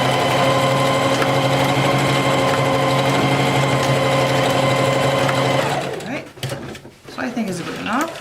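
A sewing machine zigzag stitches elastic onto a hair bonnet, whirring loud and steady for about six seconds before stopping, followed by a few handling clatters.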